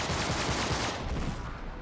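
Dense, continuous gunfire from a shootout in the video game Uncharted, a loud, steady barrage of overlapping shots that fills the whole moment without a break.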